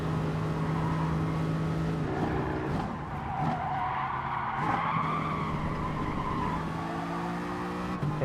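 Race car in the GT Sport video game braking hard into a corner, tires skidding and squealing over a steady, loud engine drone that continues without pause throughout.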